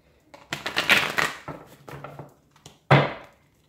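Cards riffle and snap in quick bursts, a close, crisp shuffling repeated twice with a short pause between.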